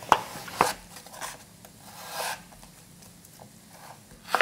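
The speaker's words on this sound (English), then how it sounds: "Cut into really small cubes." Kitchen knife chopping 8-ounce pork shoulder into small cubes on a board, a few sharp separate cuts and soft scraping at close range, quiet and without talk.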